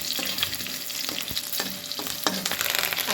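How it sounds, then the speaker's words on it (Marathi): Green chillies and garlic fry in a hot pan, making a dense continuous sizzle with several sharp spatula scrapes and knocks against the metal over a few seconds, and no voices. "मिरची आणि लसूण चांगलं भाजून घेऊया."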